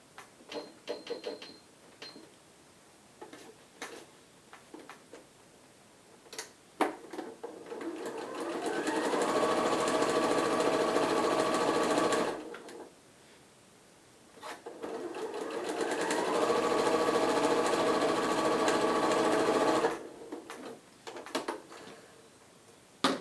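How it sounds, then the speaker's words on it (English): Two long runs of a sewing machine stitching fabric face mask pieces together with a quarter-inch seam, separated by a pause and framed by clicks and handling noises, with no voices. "I'm going to use a 1/4 inch seam allowance to stitch from the nose down to the chin area."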